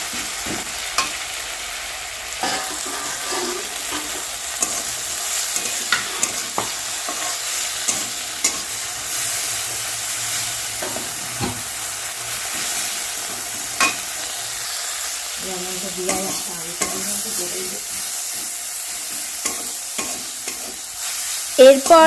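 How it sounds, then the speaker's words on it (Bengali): Onion, tomato and green chili frying together with potatoes in a pan, a steady close sizzle with scraping stirs throughout and occasional clinks, without any voices. "পেঁয়াজ আর টমেটো, কাঁচা লঙ্কা ভাজা ভাজা করে আলু দিয়ে দেবে এর মধ্যে"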